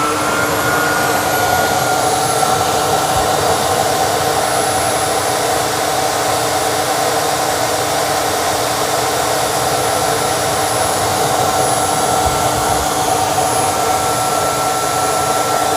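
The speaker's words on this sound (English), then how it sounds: "now let's do a self-cleaning cycle" Eureka RapidWash cordless wet/dry vacuum mop, model NEW430BL, running its self-cleaning cycle in its station: a steady loud motor whine and airy suction roar with a faint gurgle of solution, continuous throughout, no voices.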